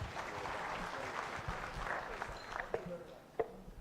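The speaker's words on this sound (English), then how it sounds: "And big round of applause once again." Audience applause at a Kenyan physicians' scientific conference, a faint, steady clapping that thins out toward the end with a few louder individual claps.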